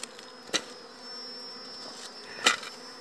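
Honey bees buzzing steadily around honeycombs during a harvest of chapadeiro-bloom honey, a continuous thin drone with a couple of louder passes close by, no talk.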